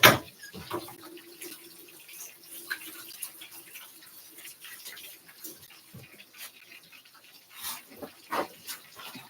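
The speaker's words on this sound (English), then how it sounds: "let me wash my hands" Water runs from a tap while hands are washed underneath, a steady close splashing stream with irregular spatters and drips, with no voices.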